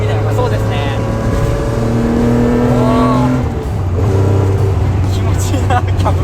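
Nissan Fairlady Z 240ZG (S30) with a carbureted 3-liter L28 engine, Solex carburetors, a tubular header and dual mufflers, accelerating from inside the car: a loud, continuous rising engine drone, with people talking over it.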